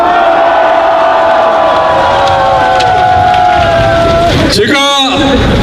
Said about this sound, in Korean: 함성 한번 질러주세요.